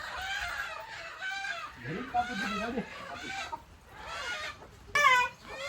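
Village hens cluck close by in short, repeated bursts, with people talking over and between the calls.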